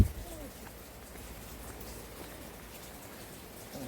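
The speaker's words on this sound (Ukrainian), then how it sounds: "Це тут вода тече також." Water runs from a pipe into a small mountain stream beside a trail in Zakarpattia, Ukraine, making a steady, close rushing wash that holds evenly for the full few seconds with no pauses.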